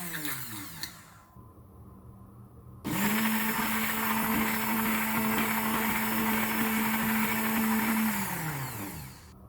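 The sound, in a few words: blender grinding a walnut hair mask mixture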